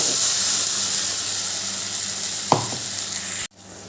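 Thick spice masala cooked in oil until the oil separates, with a little water poured in: a steady close sizzle and hiss, a brief clatter near the end, then the sound cuts off abruptly.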